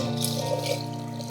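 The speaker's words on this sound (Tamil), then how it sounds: "நம்ம தண்ணி ஊற்றலாம்." Water being poured into a sambar paste for kodo millet sambar rice, a steady trickling pour over a constant low hum, close and continuous with no talk.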